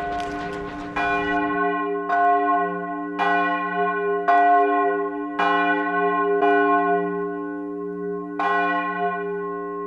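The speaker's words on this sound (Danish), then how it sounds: "Hvad nu med kirkeklokkerne, hvis de bliver gjort elektroniske?" Church bell strikes repeatedly at a steady slow pace, each ring loud and near with long ringing overtones that hang between strokes; a low hum sustains underneath, and no one speaks.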